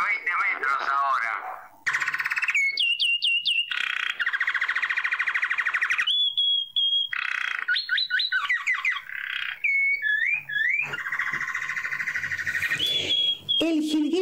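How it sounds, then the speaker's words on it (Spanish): Saffron finch singing in Argentina, with a lively string of varied whistles, trills and sweeping chirps in separate bursts, loud and close, one phrase after another with brief pauses between. "El jilguero dorado que estamos escuchando es una de las aves más conocidas de la Argentina"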